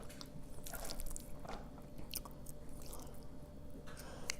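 Close-up biting and chewing of spaghetti and a giant meatball, soft wet squishes and smacking mouth sounds in a steady, unhurried rhythm, intimate and near.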